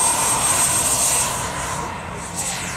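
An RC model Gripen fighter jet flies at an RC flying event, its engine a steady loud whine with a high thin tone that fades out partway as the noise dips slightly, no talk.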